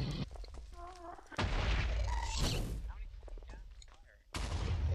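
Gunfire rings out in SurvivalCraft, a series of sharp shots scattered over the span, with one loud burst near the middle and another near the end, while people talk over it.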